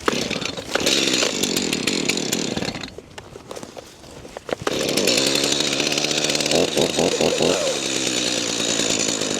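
A chainsaw cuts wood on a cold farm, revving loud and steady, dropping to idle briefly mid-way, then roaring back up while biting through the log.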